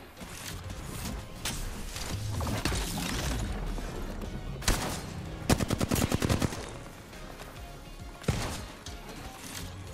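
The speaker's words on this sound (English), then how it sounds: "Why is everyone sniping though?" Gunfire in a video game battle, with a string of sharp shots, several rapid bursts and a tight volley near the middle, over a dense, noisy background.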